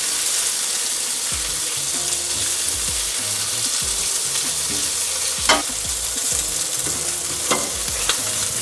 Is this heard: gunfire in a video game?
no